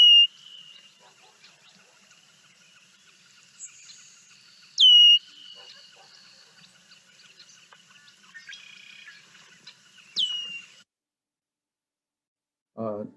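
A red-winged blackbird calls in a few sharp, whistled notes and brief trills spread over several seconds, clear against a quiet background, ending with a short low sound.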